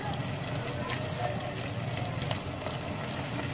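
Onions and tomatoes fry in a pan for kaleji liver masala, giving a steady, close, gentle sizzle with faint bubbling and occasional stirring scrapes.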